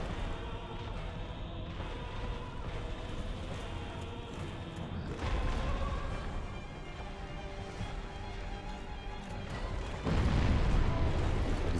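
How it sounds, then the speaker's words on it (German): Continuous rumbling explosions and booming blasts in Dark Souls fill the scene, dense and loud, with a heavier burst near the end. "Diese Explosionen sind echt fies."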